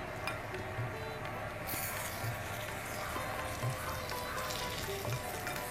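Fish sizzles gently in a pan of fried spices, a quiet steady frying hiss with a few faint clinks and soft stirring sounds, no voices.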